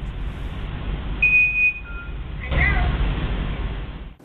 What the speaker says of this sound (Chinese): 他的电动车发出了叮咚 hello 的声音